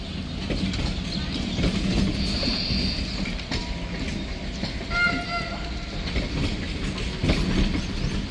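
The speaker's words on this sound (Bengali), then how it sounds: "ভারত গৌরব এক্সপ্রেস" The Bharat Gaurav Express tourist special train rolls past at speed, a loud rumbling rush of wagons with rhythmic clatter over rail joints and a brief horn-like tone midway, fairly close and sustained.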